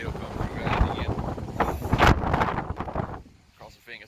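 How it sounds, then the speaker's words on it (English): Strong hurricane wind gusts from Hurricane Laura in Opelousas buffet the microphone in loud, surging roars that swell and ease, dropping briefly near the end. "That's some gusts."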